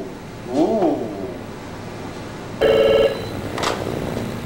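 A telephone at a Kinko's copy shop rings with one short electronic trill burst, loud and close, between other brief background noises, with no voices.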